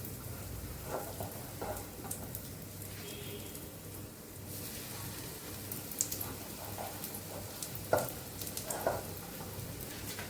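Stale puffed rice snack dusted with semolina frying in hot oil, a soft steady sizzle with scattered crackles and pops throughout.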